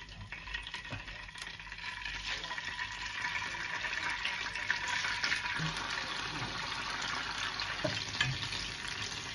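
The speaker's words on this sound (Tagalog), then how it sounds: "Ngayon ay ilagay na natin ng tokwa. Iprito na natin siya." Tofu frying in hot oil, a steady close crackling sizzle that holds for several seconds without speech.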